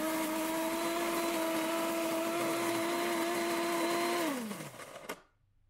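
An electric burr coffee grinder paired with a Gaggia Viva Deluxe espresso machine whirs loudly and steadily at close range for about four seconds, then spins down with a falling pitch and stops into silence.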